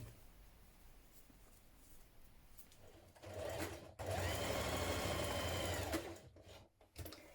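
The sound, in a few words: sewing machine stitching dress facings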